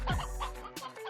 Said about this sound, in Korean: 수탉이 많아